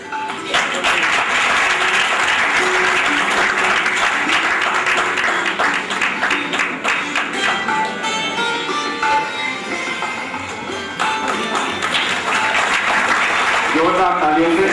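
An audience at a guest-honouring ceremony applauds loudly and continuously for the guests, with a voice and some tonal sound running over the clapping for most of the stretch.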